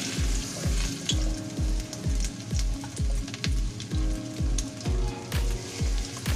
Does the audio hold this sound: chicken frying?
yes